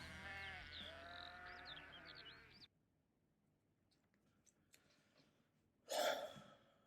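A sheep bleats once, loud and close, near the end of a 2018 remix of a song, after layered sustained music cuts off and leaves a stretch of near silence.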